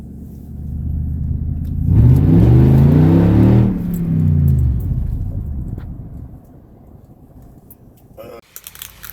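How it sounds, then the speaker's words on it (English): A 2018 Toyota Tundra with a muffler-delete exhaust revs up once, a loud, close, rising and falling engine roar lasting about two seconds, then settles back to a steady idle rumble. "I'll give you one full step down with a muffler delete on an 18 Toyota Tundra."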